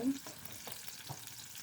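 Ingredients browning in oil in a pan for a mixed dal tarka: a soft, steady sizzle with faint stirring taps, brief and close, no voices.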